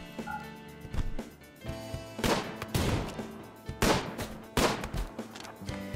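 Gunfire in the colony-simulation game RimWorld: several sharp, loud broadband shots in an irregular run over a busy game background, with no talk.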